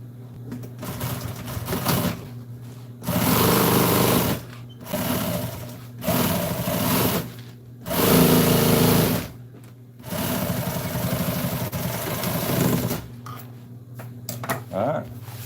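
An upholstery sewing machine stitches pieces of a seat cover together in loud, steady bursts of a few seconds each, with short pauses between runs and a brief quieter patch near the end.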